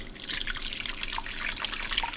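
Gravy poured from a separator back into the original roasting pan for a slow-roasted beef chuck joint, a steady close liquid trickle and splash running continuously without pause.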